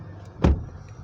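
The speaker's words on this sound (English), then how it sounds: "once you close the door" A Mercedes ML63 AMG door thuds shut once, a single close solid slam in the middle of an otherwise quiet car interior.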